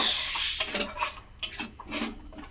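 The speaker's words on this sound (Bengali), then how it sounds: "গরম মশলা দিয়েও আমি খুব ভালো করে এবারে কষাতে থাকবো" A metal spoon scrapes and clinks against a pan while spices with garam masala are stirred and fried, irregular knocks and scraping strokes up close with no talk.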